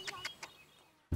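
Chickens in a coop in rural Brittany give three short, bright clucking calls spaced at an even pace, then a near thump or rustle closes the moment.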